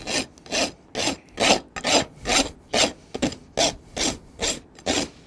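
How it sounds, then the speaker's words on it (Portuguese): A rasp files a horse's hoof during trimming and shoeing, about a dozen steady rhythmic strokes, each a loud close scraping rasp with short pauses between. "inverti a mão de trabalho e faço o mesmo grosamento"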